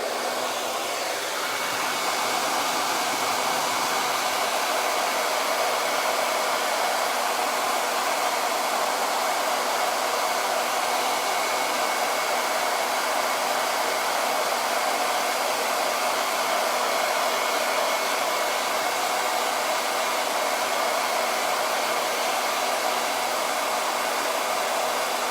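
A hair dryer dries chalk paste on a leaf cutout craft project with a loud, constant whooshing roar that runs unbroken and close throughout.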